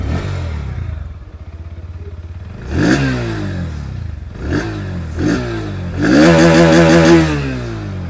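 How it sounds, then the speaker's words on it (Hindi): A 2024 Bajaj Pulsar NS160 with an underbelly exhaust idles up close, then is blipped sharply several times before one longer, louder rev that drops back to idle. "बारी बारी से यहाँ पर तीनों ही बाइक की जो एग्जॉस्ट साउंड है वो मैं आप लोगों को सुना दूँ। सबसे पहले स्टार्ट करेंगे विथ NS 160।"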